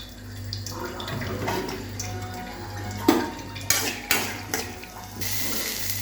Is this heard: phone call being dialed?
no